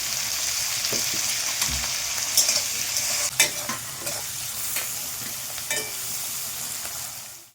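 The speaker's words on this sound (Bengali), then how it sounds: "প্রথমে ক্যাপসিকামটা আমি একটু হালকা আঁচে ভেজে নেব" Salted capsicum fries over low heat in a pan while being stirred: a continuous gentle sizzle with scattered clicks and scrapes of the spatula. No voices are heard.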